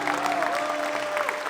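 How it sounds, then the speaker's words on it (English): Wedding guests at a rustic mountain venue clap together for the bride and her father, a dense, steady round of applause sustained throughout with a faint tonal hum beneath. "How about a big round of applause for Vicky and her dad?"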